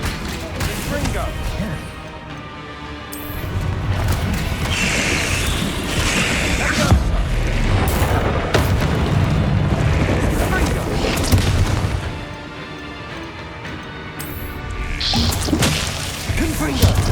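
Repeated Confringo fire-blast spells in Hogwarts Legacy, played on PC, booming and crashing in loud bursts over a dense, continuous game soundscape with voices.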